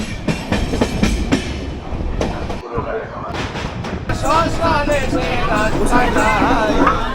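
A night train rumbles steadily along the rails from Kolkata to Tarapith with rhythmic clatter, loud and close, while people talk and chatter over it.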